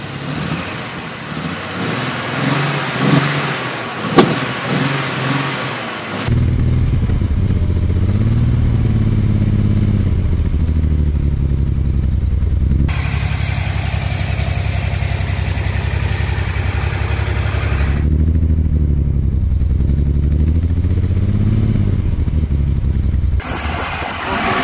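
A Mercedes 300SL Gullwing's inline six-cylinder engine cranks, catches and settles into a steady loud idle with a few throttle blips, heard close and alone.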